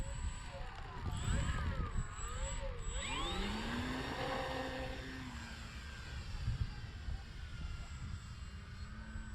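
A Dynam Waco RC biplane flies overhead, its electric motor whining and sweeping up and down in pitch as it passes near and then away, with gusty wind noise and some talk underneath.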